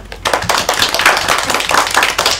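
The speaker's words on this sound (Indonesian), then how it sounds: "Beri tepuk tangan untuk kita semua." Students in a classroom clap together in quick bursts, close and loud, for a couple of seconds with no talking.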